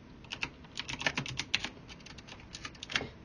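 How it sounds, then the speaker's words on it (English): Irregular typing on a clicky computer keyboard, close and fairly quiet, with quick clusters of crisp key clacks separated by short pauses and no voices. "I love my little clicky keyboard."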